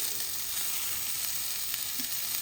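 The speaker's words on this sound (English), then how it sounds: "while that is cooking, I'm going to be stirring it around, making sure that it's not sticking to the bottom of the pan" Pork sausage frying in a pan while being stirred, a steady close sizzle and crackle running throughout with a faint scrape near the end.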